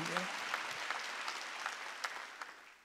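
Congregation applause during a Korean church worship service, sustained clapping filling the space with a few sharper claps standing out, while a preacher's voice continues over it.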